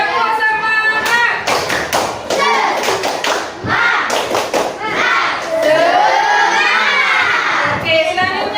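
A classroom group of children performs a rhythmic spirit clap, loud and close, with bursts of patterned clapping, chanting voices and shouting, ending in cheering.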